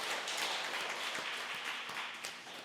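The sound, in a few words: congregation applause in church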